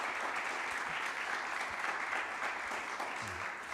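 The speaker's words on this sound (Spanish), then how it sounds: "Ahora sí aplauda." A church congregation applauding during a Sunday service, a continuous, dense patter of clapping from many people, steady and moderately loud throughout the short stretch with no speech over it.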